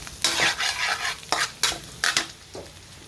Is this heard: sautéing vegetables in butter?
yes